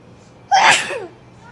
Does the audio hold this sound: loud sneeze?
yes